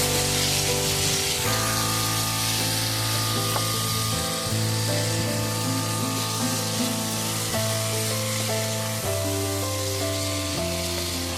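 Cut potatoes frying and being stirred in a pan for a Bengali egg curry make a continuous close sizzle that holds steady the whole time, with faint utensil movement underneath.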